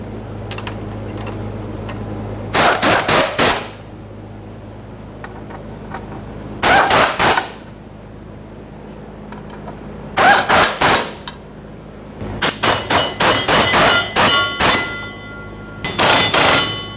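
Torque wrench ratcheting in sharp, rapid metallic bursts while tightening the fuel tank strap bolts on a 2011-2020 Toyota Sienna, close and loud, several separate runs with quiet gaps between.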